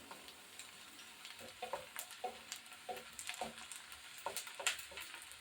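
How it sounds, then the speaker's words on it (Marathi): Finely chopped onion frying in hot oil until brown, a quiet sizzle under intermittent scraping and tapping of a spatula stirring the pan, close and fairly faint. "कांदा छान असा ब्राऊन होईपर्यंत आपल्याला परतून घ्यायचा आहे"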